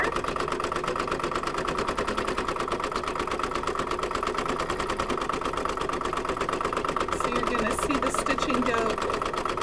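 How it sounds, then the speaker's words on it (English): An embroidery machine works a bean stitch, a triple run, around an apple coaster design. The close, steady mechanical chatter never lets up. "it's got what we call a bean stitch or a triple run as it goes around the outside"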